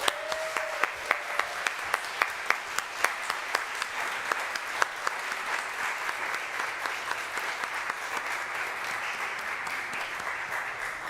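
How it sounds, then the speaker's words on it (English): Congregation at a Sunday church service gives sustained applause, a dense, even patter of many hands clapping for over ten seconds, fairly quiet and slightly distant, with no one speaking. "And let's give them a round of thank you applause."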